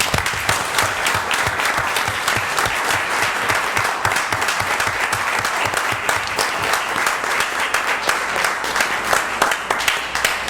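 Audience applause at a city council meeting in Hammond, Louisiana, dense sustained clapping from a crowd filling the room, steady and loud from start to finish.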